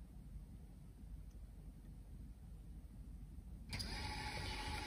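Small drone motors on a Pixhawk flight controller running BlueJay ESC firmware spin up suddenly near the end, a steady high-pitched whine starting after a stretch of quiet hum.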